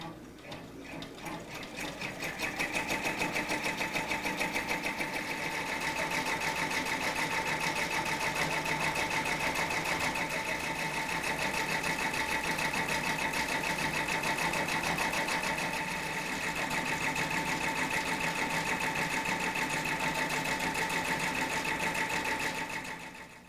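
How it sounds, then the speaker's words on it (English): An embroidery machine running at its lowest speed while it stitches a free-standing lace design, giving a loud, steady mechanical whir with a fast repeating needle rhythm that continues unbroken and alone. "I'm going to make sure that the machine is at the lowest speed, and we'll just run this design until it's done."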